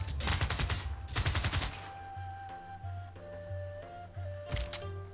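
In the video game Civilization VI: Gathering Storm, rapid bursts of anti-aircraft cannon fire rattle at the start, then give way to quieter electronic tones and a few scattered shots.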